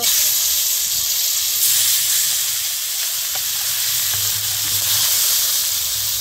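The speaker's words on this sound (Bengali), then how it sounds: "তেল গরম হয়েছে, এখন দিব গোটা জিরা।" Whole cumin seeds sizzle in hot mustard oil in a wok while cooking a village-style eggplant mash, a loud, close, continuous hiss that stays constant throughout, with no talk over it.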